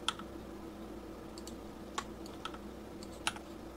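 Scattered computer keyboard key presses while working in Blender, a handful of soft, close clicks spaced irregularly over faint room hum.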